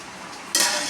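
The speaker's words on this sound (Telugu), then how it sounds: "ఫ్రై చేస్తున్నారు ఫ్రెండ్స్" Fish curry ingredients hit a hot pan in a home kitchen and burst into a sudden, loud, hissing sizzle that continues steadily after a quieter moment.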